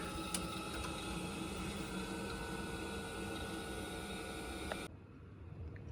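A boiler fan hums and whirs steadily after its fibre washers were replaced, a continuous even drone with faint rattle that cuts out abruptly near the end.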